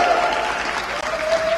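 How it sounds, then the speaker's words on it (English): An audience at the grand final of the ROKiT Racing Star F4 Esports Competition in the UK cheers and claps, a dense, loud burst of applause with faint shouts running the whole way through. "Give us a cheer."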